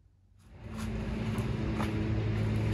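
A 1974 Toyota FJ40 barn find's engine starts up and settles into a steady, rumbling run, with a low hum building over the first second and holding loud and close.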